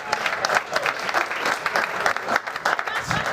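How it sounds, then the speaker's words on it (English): Comedy club audience at Zanies Nashville breaks into a sustained round of clapping, dense and close with a few voices mixed in, steady for a few seconds. "9 minutes in, we got our first applause break."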